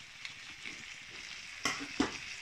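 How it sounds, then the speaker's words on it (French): Minced meat frying in a pan while parsley, ginger powder, pepper and turmeric are stirred in; a low steady sizzle with two sharp scraping strokes of the utensil near the end. "je vais bien mélanger pour que tout soit bien incorporé dans la viande"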